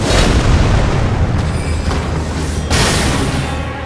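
Heavy cannon blasts in an Elden Ring mod, two booming bursts about a second apart rising over a dense, continuous rumble of combat noise, loud and close with no talk.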